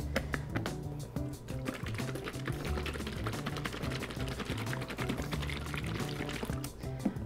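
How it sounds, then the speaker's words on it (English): Essential oil sunscreen mixture sloshes and rattles as a lidded container is shaken rapidly, a dense continuous stream of liquid swishes and clicks with no talking. "I'm gonna put my lid on and kind of shake it up a little bit here."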